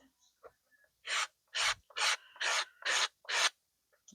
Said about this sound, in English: we'll just continue to sand it until you get the shape that you like